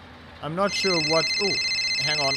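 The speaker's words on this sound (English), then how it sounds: "That's my phone again." A phone rings in the farming game Farming Simulator 22, a steady electronic tone starting just under a second in and continuing beneath a man's speech.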